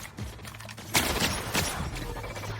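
Gunfire from a sci-fi shooter game fight in The Outer Worlds, a few loud shots and bursts over a low continuous hum, with a short burst near the start and sharper cracks in the second half.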